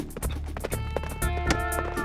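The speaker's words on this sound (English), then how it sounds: "So she's galloping at 44 miles an hour and hitting the target" A horse gallops at speed during mounted archery, its hoofbeats coming as a steady, fairly loud rhythmic clatter over a constant background roar.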